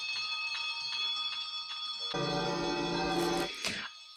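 Servants' bells ringing in the 1970 film Scrooge, faint repeated tinkling strikes followed by a brief louder jangle of bells, with faint background noise.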